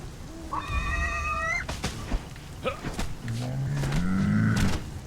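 Pigs grunt and squeal in the survival video game Conan Exiles, a few short animal calls close by over a steady ambient bed, with a lower drawn-out grunt near the end.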